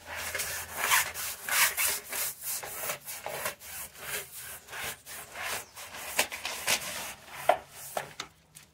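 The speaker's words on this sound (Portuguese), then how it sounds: "agora eu joguei aqui o restinho do sapólio e tô esfregando aqui com essa escova aqui" A brush scrubs the front of a house with Sapolio cleaning powder, loud close rhythmic rasping strokes repeating steadily about twice a second, with no talking.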